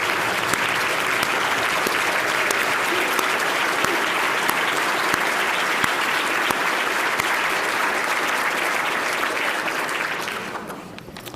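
A large audience at an awards ceremony bursts into sustained, dense applause that holds steady for about ten seconds before tapering off at the end.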